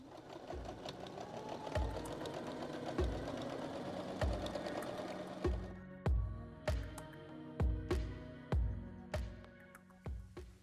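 A sewing machine stitches the top seam of a fabric tie-top, first in a continuous whirring run, then in a series of short, evenly spaced bursts with pauses between them, close and fairly quiet.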